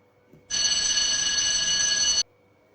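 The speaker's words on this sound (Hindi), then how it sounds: "पर तभी फोन की घंटी बज उठी।" A telephone bell rings continuously for about two seconds, loud and close, with a harsh metallic trill, then stops abruptly into silence.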